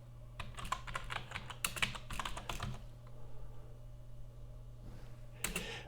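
Rapid keyboard typing in bursts, clicking keys close by, then a pause of quieter background before a final short flurry of keystrokes.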